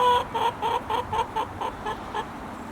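An old hen clucks in a quick, even series of short, close notes, about eight or nine in a row with no other sounds around them.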